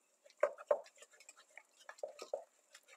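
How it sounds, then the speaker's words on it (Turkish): A spoon stirs egg into a flour and yogurt mixture in a bowl, giving a few soft, close scrapes and clinks, two sharper knocks early, then lighter irregular stirring strokes. "Yumurtamı da içine ekliyorum ve karıştırıyorum."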